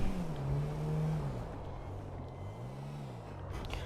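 Engine of a taxi in a taxi racing video game, revving and rising in pitch with a wavering drone, fairly close and steady, no voices over it.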